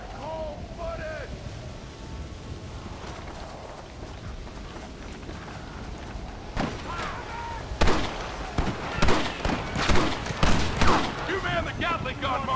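Rapid gunfire from a Gatling gun in the Red Dead Redemption western game, building from a busy battle backdrop into a loud, dense stretch of repeated bursts near the end, with shouting voices mixed in.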